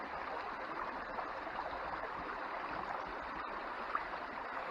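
Sluice mat carpets washed by hand in a flowing stream, with steady rushing water throughout and a brief splash near the end, no talking.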